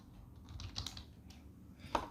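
Short bursts of typing on a computer keyboard, a few scattered keystrokes with a brief louder cluster near the end, close and fairly quiet over a faint background hiss, with no talking.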